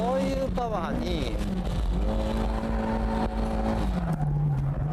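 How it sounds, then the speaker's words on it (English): A drift car's engine revs up hard after a downshift, pitch climbing and sweeping through gears under loud, close cabin noise, with a brief tire-squeal texture and someone talking over it. "Shift down and put the pedal to the metal."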